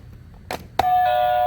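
A classroom attention bell: two soft taps, then one clear bright ding that rings on steadily, close and fairly loud, with no talk.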